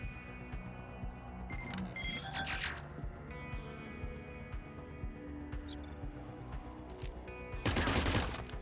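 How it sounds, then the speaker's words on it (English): Gunfire in the tactical game Cyber Knights: Flashpoint, with a few short sharp bursts spread across a busy mix of game tones and effects and a loud crackling volley near the end. "Damn, he's good at shooting that spot."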